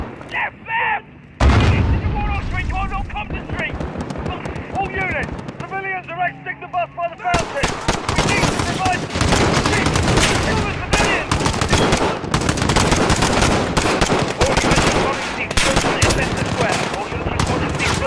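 Heavy gunfire in Call of Duty Modern Warfare: a sustained barrage of rapid machine-gun bursts and louder shots, near and intense, with shouting voices mixed in.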